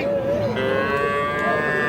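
Young bull calves, about four to five months old, moo at the Ambari cattle market. One long, close, drawn-out bovine call runs through the moment over a busy background murmur.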